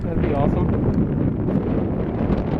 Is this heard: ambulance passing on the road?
no